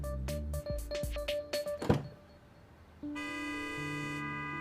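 A few short horn toots sound in a quick irregular burst, followed by a thunk and a sustained tone.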